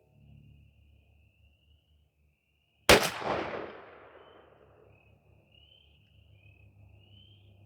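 A 20 gauge Stevens 301 shotgun fires a 3-inch, 1-1/4 oz load of Herter's Strutter #5 lead through a Primos Tight Wad .570 choke outdoors. A single loud, sharp blast breaks a quiet scene, then a decaying echo trails off over several seconds.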